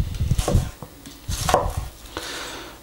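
A large knife slices an onion lengthwise on a board in a few quick crisp strokes, with pauses between the cutting bursts, close and fairly loud.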